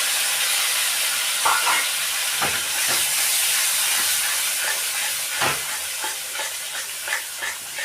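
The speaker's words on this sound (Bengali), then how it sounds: "এবার যে পেস্টটা করে রেখেছিলাম সেই পেস্টটা এতে দিয়ে দেবো।" Spice paste frying in hot oil over fried spices for a dhaba-style egg curry, a loud, steady sizzle broken by repeated scraping and tapping as the paste is stirred around the pan.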